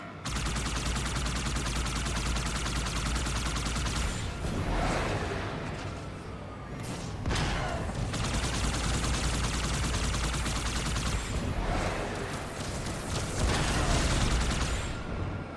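Sustained video game gunfire on a space station, rapid bursts crackling continuously for the full stretch with a few louder volleys, no talk.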